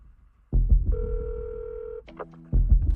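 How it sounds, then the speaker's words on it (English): A telephone number is punched on a phone keypad, giving a few short electronic tones between soft clicks and handling noise, close and clear. "Tell me what you're feeling as you're dialing that number and you're waiting."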